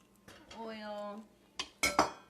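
A small pan is handled on the stove while cooking coconut curry, giving a few sharp metallic clanks and clinks near the end after a quieter stretch.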